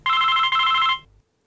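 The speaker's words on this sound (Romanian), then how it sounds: "Stați așa că sună telefonul." A telephone bell rings loud and close in two quick bursts separated by a brief gap, then cuts off and leaves a short low hum before silence.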